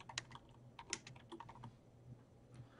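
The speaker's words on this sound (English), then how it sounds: "I'm first going to type out our command" A G-code command is typed on a computer keyboard for a CNC machine: quiet, close keystrokes in quick, uneven bursts with short pauses, no talking.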